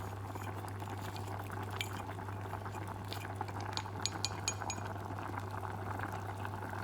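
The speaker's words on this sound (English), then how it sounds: "cook in the Coca-Cola for about 2-3 minutes on high fire" Pork braising in Coca-Cola over high heat, a steady close bubbling and simmering hiss with a low constant hum and occasional faint clinks, no voices.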